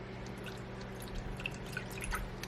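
Chicken broth trickles into a pan over turkey wings, faint dripping and splashing against a low steady hum, with no talk.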